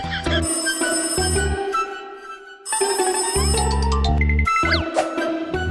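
An electronic telephone ringtone plays in repeated melodic bursts with short pauses between them, loud and close indoors.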